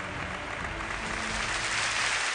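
A theatre audience at an errenzhuan stage show claps together in a dense, sustained burst of applause that stays steady throughout.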